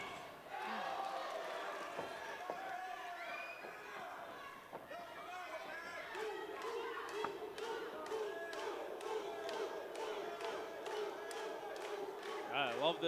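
Spectators at an amateur boxing event in Carlton, Minnesota cheer and shout in a crowded hall, a rising mix of voices and claps around the ring with commentators talking over it.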